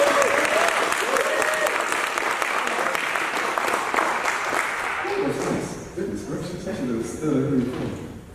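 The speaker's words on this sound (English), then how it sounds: "So if you could, now, give me a clap." A conference audience at a 2019 microloan pitch contest claps in sustained, dense applause for about five seconds before it thins and dies away, while a voice begins speaking near the end.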